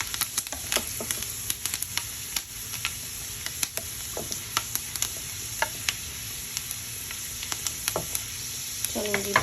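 Oil tempering for daal, about four to five tablespoons of oil with spices turning golden, fries in a pan with a loud, dense crackling sizzle full of rapid pops throughout, heard close and alone.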